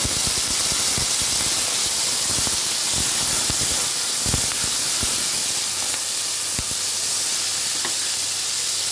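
Tomato pieces fry in a hot pan with a dense, continuous sizzle and hiss up close, broken by small pops and spatters throughout.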